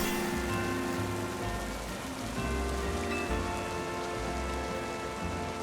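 Rain falls steadily in the video game Pokémon Legends: Z-A as a dense, even hiss, mixed with soft background game music and no voices.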